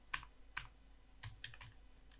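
A few quiet keystrokes tap on a computer keyboard while country names are typed into an MS Word document, two isolated clicks followed by a short cluster, soft and close with no talk.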